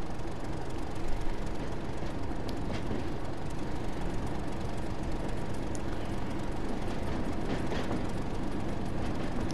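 A train in the Train Simulator video game rolls steadily over track junctions, its constant rumble broken by faint, irregular clicks from the wheels.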